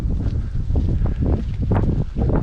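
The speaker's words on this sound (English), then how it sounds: "Really cold, windy day." Cold, windy November day on the Midewin National Tall Grass Prairie, with steady wind buffeting the microphone in loud, rough gusts that rise and fall throughout, no voices.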